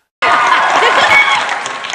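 Studio audience applause at a Tamil comedy show, a burst of dense clapping that starts abruptly and holds steady and loud, easing slightly toward the end.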